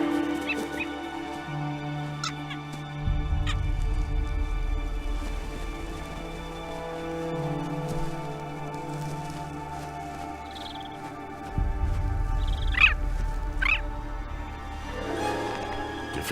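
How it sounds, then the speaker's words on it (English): Arctic jaeger birds give sharp, repeated chirping calls while harassing a white wolf on open tundra, scattered bursts over a low rumbling wind and tonal background. "Even Alpha is no match for the persistent birds."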